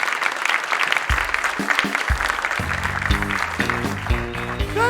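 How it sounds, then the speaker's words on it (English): Audience at a live comedy show clapping in a dense, steady round of applause, with a few cheers mixed in and someone talking over it. "Come on up here, give her a round of applause."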